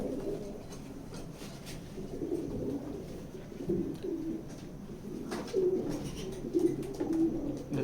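Racing pigeons in a loft coo softly and repeatedly, low rolling calls overlapping at moderate distance, with faint scattered bird chirps and light background noise.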